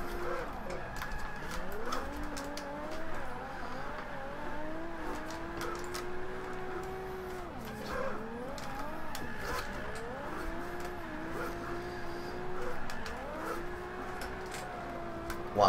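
A Nissan 350z drifting in Forza 5 whines steadily with engine pitch rising and falling as it slides through corners, a constant moderate drone with faint tyre squeals throughout.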